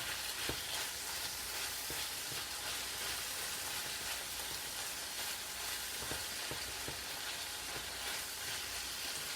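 Squash and chicken breast fry in a pan with a dense, continuous sizzle and crackle, steady throughout with occasional sharper pops and no talking.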